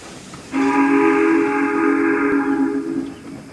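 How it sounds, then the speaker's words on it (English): A steam whistle blows a long, steady, multi-toned blast for about two and a half seconds, with faint chuffing and rumble beneath, fairly close. "he heard a whistle and puffing in the distance"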